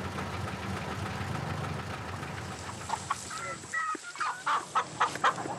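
Chickens cluck in short, rising bursts close by on a rainy monsoon road in the Philippines, over a steady low hum of straining engines.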